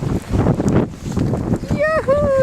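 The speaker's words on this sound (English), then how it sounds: "Oh, here's the gust." Strong gusting wind in a snowy blizzard roars steadily and close against the microphone, with a voice speaking briefly near the end.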